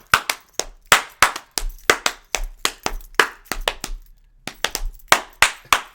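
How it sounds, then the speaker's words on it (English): A single person claps their hands in a loose, uneven rhythm, each sharp clap close and crisp with a short pause partway through, and no talking over it. "Clap."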